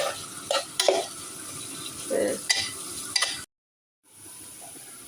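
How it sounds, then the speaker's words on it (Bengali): Chopped onions sizzle in a pan for a mutton curry while a spoon stirs and scrapes in several close, uneven strokes, followed by a short moment of silence before the frying resumes softly. "পরিমাণ মতো পেঁয়াজ কুচি দিয়ে দেবো। এরপরে নেড়ে চেড়ে ভাজতে হবে"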